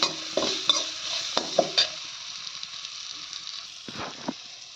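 Fish coated in homemade chicken masala frying in oil on low heat, a close sizzle under several scraping strokes of a spatula stirring the pan, then a quieter stretch near the end.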